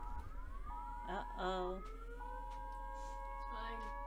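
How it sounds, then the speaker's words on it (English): A civil defense siren in the Netherlands, sounding its monthly first-Monday test, holds a steady wailing tone in the distance while a person speaks briefly over it. "The first Monday of the new month, they always do the sirens to check if they're working."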